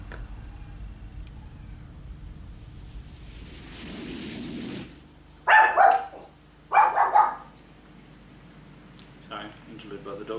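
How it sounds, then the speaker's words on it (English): Dogs bark in two loud, close bursts of several barks each, with a short gap between them, rising over a quieter steady background. "Sorry, interlude by the dogs there."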